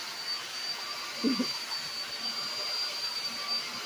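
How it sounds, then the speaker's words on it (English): A hair blow dryer runs steadily close by, a constant airy whoosh with a thin high whine, briefly broken by a faint bump. "look at the blow dryer."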